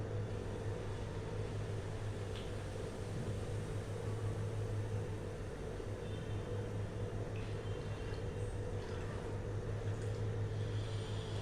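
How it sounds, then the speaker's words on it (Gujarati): Flattened rice (poha) fries in hot oil for chevdo, a continuous broadband hiss that stays steady and fairly loud throughout with no talking. "આપણે આવી રીતે થોડા પૌવા તળવાના."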